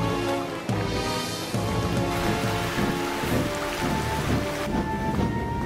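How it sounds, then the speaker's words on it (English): An animated-show storm of rain and wind roars steadily and loudly throughout, a dense wash of downpour with some sustained musical tones running underneath and no voices. "Big storm, Nipper."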